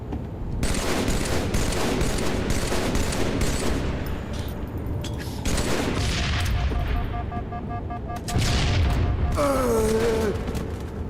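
Bursts of gunfire and booming grenade explosions from a shooter video game, loud and dense throughout, with rapid shots and heavy blasts layered together and no speech over them.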